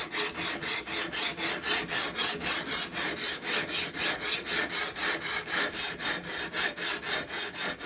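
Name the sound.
knife sharpening on stone with Ruixin Pro RX-009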